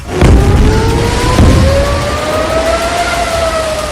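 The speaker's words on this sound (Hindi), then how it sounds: "दहाड़ते सायरनों के बीच" Air raid sirens over Israeli cities, a loud wailing tone rising slowly in pitch and sustained for the whole stretch, with a couple of dull thuds near the start.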